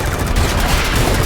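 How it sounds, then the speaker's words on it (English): Dense, continuous roar of rapid-fire Vulcan cannon bursts from fighter jets in a film, loud and close, a sustained rattling barrage with heavy low rumble underneath. "the impact of the Vulcan cannons hammering through the valleys"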